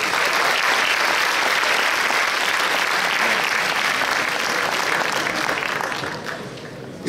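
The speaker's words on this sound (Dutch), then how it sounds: "Daar geef ik graag uw applaus voor Madina Hamidi." Sustained audience applause at a Miss Fashion pageant event, dense and steady across the room, easing off slightly near the end.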